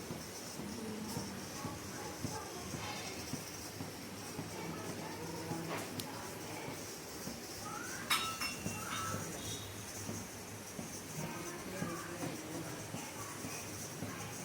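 Kitchen utensils and dishes being washed by hand at home, a continuous hiss of running water with scattered clinks and clatters of metal pots and plates throughout.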